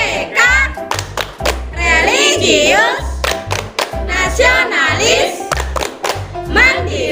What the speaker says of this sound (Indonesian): kita melakukan tepuk PPK terlebih dahulu